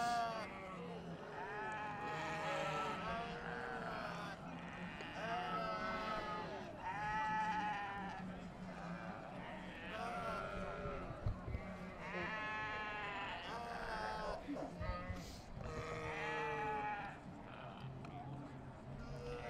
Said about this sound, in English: So we've also got other sheep on the other side.